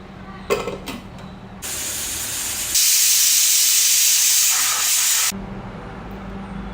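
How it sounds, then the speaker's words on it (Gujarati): Steam hisses loudly and steadily from a pot of peas set to boil for ragda chaat, rising to a strong sustained spray before dropping back to a quieter kitchen background. "હવે આપણે આ વટાણાને બાફવા માટે મૂકી દઈશું."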